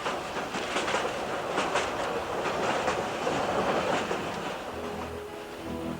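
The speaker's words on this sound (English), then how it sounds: "Steam trains are still in use, from here to the Pacific coast." A steam train rolls steadily along the rails in Ecuador with a rhythmic clickety-clack, a continuous, fairly loud rumble and clatter with no voices.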